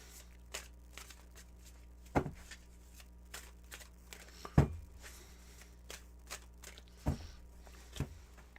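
Tarot cards being shuffled, heard as a handful of sharp, papery snaps and riffles spaced a second or two apart against a quiet room.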